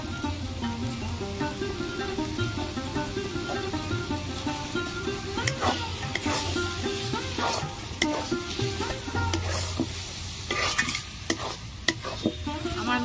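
Fried onion and garlic stirred into sizzling taro leaves in a pan, with a continuous close frying hiss broken by scraping spoon strokes and clinks, no voices.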